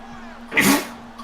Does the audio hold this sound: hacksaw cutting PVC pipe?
no